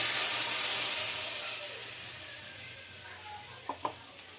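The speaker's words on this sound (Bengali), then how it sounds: "এই কড়াইয়ের মধ্যে আমি এই সাদা তিলটা দিয়ে দেব।" White sesame seeds crackle in hot ghee in a kadai, a bright sizzling hiss that fades gradually, followed by a couple of short knocks near the end.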